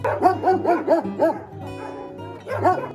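Several dogs bark in a quick rhythmic series at a municipal animal shelter in Vinnytsia, close and loud, pausing briefly amid a low background hum before another burst of barking.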